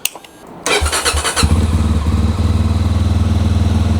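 A Rieju Rally 307 motorcycle engine cranks over and fires up, catching after a few uneven chuffs and settling into a loud, close, raspy idle with a steady rapid pulse.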